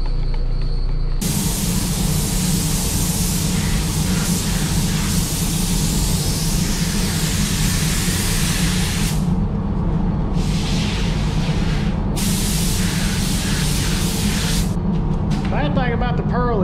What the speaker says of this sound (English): I'll take you in the booth and we'll start spraying that ghost stripe.